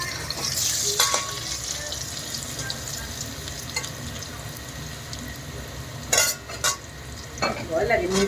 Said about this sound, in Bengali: নিম পাতা ভাজছি তো